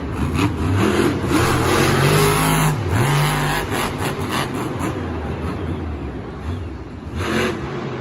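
Monster truck engine at a Monster Jam stadium event in Houston, revving loudly and continuously with a rising and falling pitch as the truck sets off over the racing lane, thick crowd and arena noise throughout.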